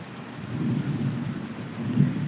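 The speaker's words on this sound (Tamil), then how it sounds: "இடி இடிக்குது பாருங்கள்" Low, continuous thunder rumbles from a gathering storm over a village, swelling slightly toward the end, with no voices.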